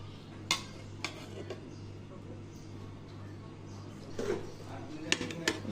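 Chicken biryani is mixed and served from a pot: scattered spoon clinks and scrapes on metal, a few sharp taps spaced across a quiet, low-level background.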